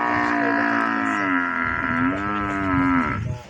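A single cow moos long and loud at close range on a cattle farm pasture in Minembwe, a drawn-out, wavering low call that fades at the end.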